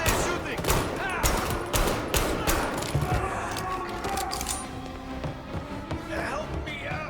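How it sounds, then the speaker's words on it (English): Gunfire in the video game Mafia: Definitive Edition, a rapid burst of many sharp shots in the first half, then sparser distant shots amid shouting voices and commotion. "Where are they shooting?"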